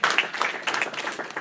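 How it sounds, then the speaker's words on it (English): A congregation at a mosque gathering claps for a guest, with distinct, fairly close individual claps in an uneven rhythm rather than a dense roar, and it fades quickly. "Let's give Brother James a round of applause"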